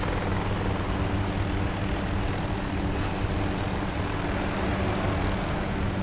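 A helicopter with no tail rotor in ArmA 2 gives a loud, steady rotor-and-engine drone that holds unbroken from start to finish, with no voices over it.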